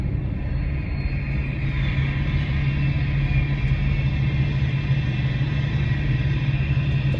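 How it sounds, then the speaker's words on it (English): A truck gives off a steady, loud low rumble with a persistent droning hum running underneath, continuous and unchanging throughout, with no voices. "The truck is making a really weird sound."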